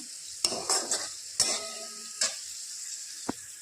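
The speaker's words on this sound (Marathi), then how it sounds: "ते दोन चमचे टाकल्यानंतर व्यवस्थित परतून घ्यायचा तेलामध्ये" Masala spices sautéed in oil in a pan for a Marathi matar paneer bhaji, a steady sizzle broken by several sharp scraping stirs of a spoon, close and moderately loud, with no talking.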